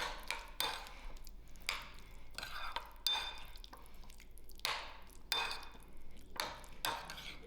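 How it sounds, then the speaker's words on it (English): A spoon stirs salsa into a bowl of guacamole: soft, wet scraping strokes repeat in an uneven rhythm, close and quiet, with faint clicks against the bowl. "I'm going to add in 2 tablespoons of my salsa. Give this a nice mix."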